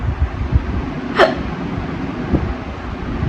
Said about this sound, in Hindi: हिचकी लगी अभी।